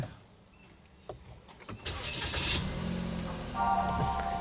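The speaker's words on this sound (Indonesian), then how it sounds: "kita nyalakan dulu mesinnya" A Daihatsu Rocky 1.2 from 2021 starts up: a brief starter whir, then the engine catches and settles into a steady, fairly quiet idle close by.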